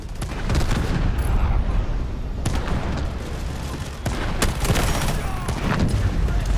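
An artillery barrage with dense gunfire in the shooter Delta Force: continuous loud rumbling booms and crackling volleys, with sharp shot transients scattered throughout and faint voices underneath.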